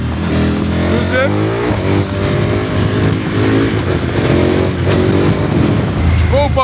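A KTM 1290 Super Adventure S motorcycle accelerates hard through the gears while lifting into a wheelie. The engine roars loud and close, rising in pitch with each gear and cutting briefly at shifts, and a rider's excited voice and wind buffeting come through over it.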